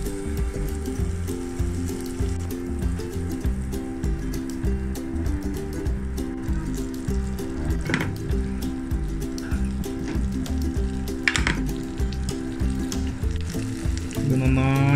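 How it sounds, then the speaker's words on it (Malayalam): Mutton pieces frying in a small knob of butter in a pan for mutton majboos: a steady, fairly loud sizzle runs throughout, with occasional light clicks of a utensil. "ഈ മട്ടനെ നമുക്കൊരു പാനിലേക്ക് കുറച്ച് ബട്ടർ വെച്ചിട്ട് ഒന്ന് മുരിച്ചെടുക്കാം"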